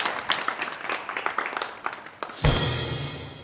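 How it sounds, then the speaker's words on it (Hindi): Clapping bursts out from a crowd at a village election gathering, ragged and fairly close, after a short stretch of talk and handclaps. "तालियां।"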